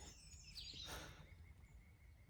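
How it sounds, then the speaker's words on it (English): Faint, distant bird chirps in a quiet mountain spot on the Appalachian Trail, a brief burst of calls and then a thin sustained tone over soft background hush. "Again, just the birds."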